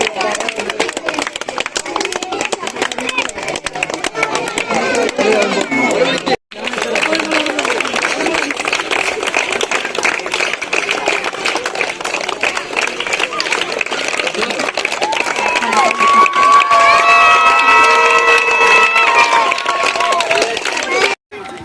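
Crowd clapping and cheering at a panchayat-level LP school football match: dense, steady applause and shouting that keeps going, with a brief break, under nearby voices and chatter.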